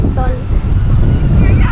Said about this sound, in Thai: ไม่รู้ว่าพายุลมอะไรทำไมมันแรงเกิน